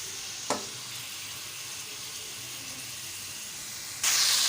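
Chicken frying in a pan with ginger-garlic paste, giving a steady close sizzle and hiss with a brief clatter near the start and a louder burst of sizzling toward the end.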